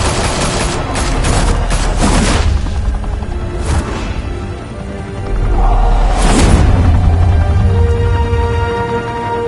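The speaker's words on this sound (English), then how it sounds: "Open fire!" Loud, dense bursts of gunfire fill a Batman: The Telltale Series firefight, with rapid volleys and heavy booms rolling over one another across the whole stretch, swelling again toward the end.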